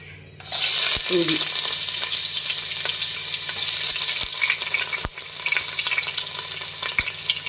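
Ginger hits hot coconut oil in a pan and erupts into a loud, sudden sizzle that settles into steady close frying hiss, punctuated by a few sharp utensil knocks.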